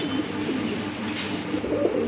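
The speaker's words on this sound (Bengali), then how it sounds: "এখানে কিন্তু আরেক জোড়া কবুতর আছে, গিরিবাজ কবুতর" A pair of Giribaz pigeons coos softly and steadily at close range, low murmuring calls repeating over a faint background hiss without any talking.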